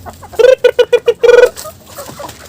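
A hen gives a run of clear, rhythmic clucks, five or six quick calls, close and loud, followed by quieter background noise, at a farm with chickens sick with fowl cholera.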